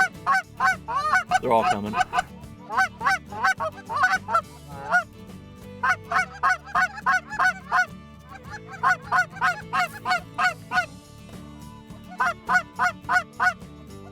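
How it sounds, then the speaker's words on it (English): Flock of Canada geese, big honkers flying in over a Saskatchewan field, honking loudly and repeatedly in rhythmic overlapping calls close by, with a brief voice speaking early on. "The majority of the geese coming to this field were all honkers."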